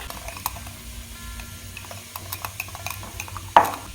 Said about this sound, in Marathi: छान व्यवस्थित फेटून घ्यायचं.